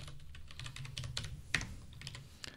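Close, rapid clicking of computer keyboard keys as text is typed in, an uneven patter of taps with one sharper key strike near the middle.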